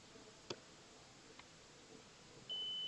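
A multimeter gives a sustained electronic tone during a capacitor charge and discharge test, beginning abruptly near the end after a quiet stretch with a couple of light probe clicks.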